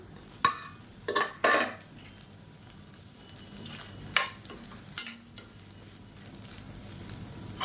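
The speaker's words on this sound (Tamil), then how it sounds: "இப்போ இதில் நம்ம நறுக்கி வச்சுருக்க இந்த மீல் மேக்கரை சேர்த்துக்கலாம் சேர்த்து நல்லா வறுத்து எடுத்துக்கலாம்" Chopped meal maker soya chunks fry in oil in a kadai, a faint steady sizzle punctuated by several sharp clinks and scrapes of a stirring spoon against the pan.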